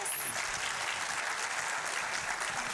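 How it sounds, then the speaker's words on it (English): A crowd at a Whites Creek High School gathering applauds the principal, a dense, steady wash of clapping that holds for a few seconds without a break. "Can we give him a round of applause?"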